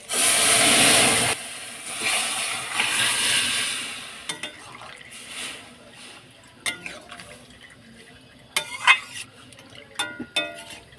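Vegetables poured with their water into a hot pan spiced with panch phoron, cumin, coriander, chili and turmeric powders, a loud gushing sizzle at first, then softer bubbling and scattered stirring clatters.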